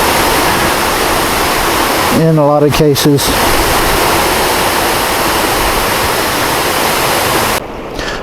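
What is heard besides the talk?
waterfall in Glacier National Park, Montana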